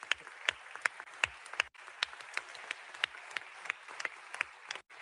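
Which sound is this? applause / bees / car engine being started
applause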